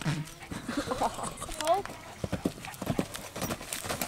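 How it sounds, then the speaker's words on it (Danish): Horse hooves clip-clop at a riding stable, a run of close, irregular knocks, with a short whinny partway through and people talking over the top. "Den hest er også lidt dum, Mathilde."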